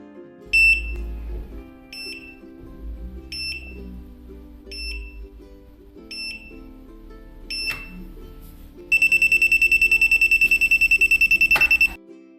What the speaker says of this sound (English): we will need to hold the Learn Code button until the 7th beep